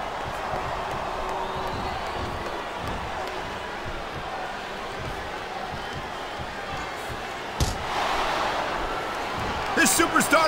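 A capacity crowd at WrestleMania 23 in Green Bay roars in a steady, dense wash of cheering under ongoing commentary. The noise swells near the end.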